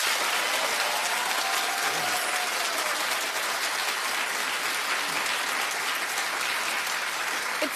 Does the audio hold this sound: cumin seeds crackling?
no